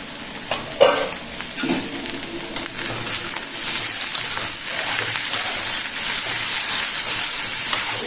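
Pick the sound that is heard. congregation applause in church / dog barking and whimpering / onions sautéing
onions sautéing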